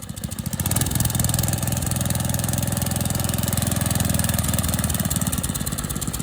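An old, worn mini bike's small engine rises quickly from a start and holds a loud, steady, buzzing throttle, close by, with no voices over it.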